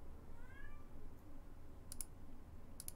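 A house cat lets out a brief, soft meow early on, followed by a few sharp clicks against a quiet background hum.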